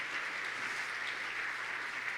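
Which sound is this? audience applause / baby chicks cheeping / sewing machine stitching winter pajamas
audience applause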